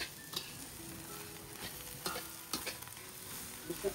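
Fried rice cooking on a pan at a beach viewpoint, with a steady sizzle and scattered scraping stir strokes from a spatula, fairly quiet and continuous with no talking.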